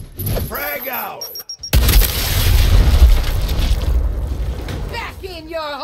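A frag grenade detonates in the video game Gears Tactics, a sudden loud blast at about 1.7 seconds that rolls into a long rumbling, crackling tail. Voices speak over the scene before the explosion and again at the end.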